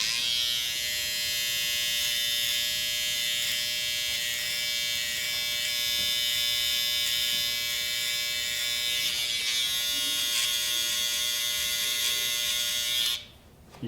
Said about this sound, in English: You could use a clipper if you wanted to, but we're gonna get this fade nice and tight, so I prefer using trimmers.